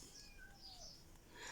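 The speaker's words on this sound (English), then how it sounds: "Sorry if you can hear a cat crying." A faint feral cat meows in the distance, thin plaintive cries rising and falling against a quiet background.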